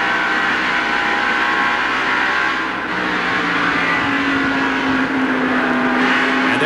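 NASCAR Winston Cup stock cars racing at the 1989 Transouth 500, a continuous loud engine roar from the field with a rising engine whine in the second half, no voices.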